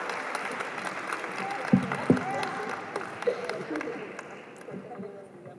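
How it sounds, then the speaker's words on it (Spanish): Audience applause at an academic talk on educational research: a steady spread of clapping from a seated crowd, moderately faint, with a speaking voice running over it. "Un fuerte aplauso, por favor."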